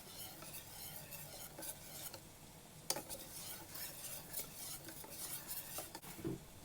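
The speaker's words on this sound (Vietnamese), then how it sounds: "Mình trộn cho cái phần lòng đỏ này nó mềm ra." A whisk or spatula folding egg whites into egg yolks in a bowl for castella cake, soft repeated scraping and light clinks against the bowl, quiet and close.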